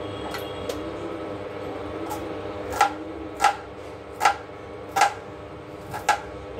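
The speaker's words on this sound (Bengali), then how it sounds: "ততক্ষণে আমি একটু এটা কেটে নিচ্ছি, পেঁয়াজ টেয়াজগুলো কেটে নিচ্ছি।" Onions sliced with a knife on a cutting board in a home kitchen: a steady run of about seven crisp, evenly spaced chops, fairly close, over a low background hum.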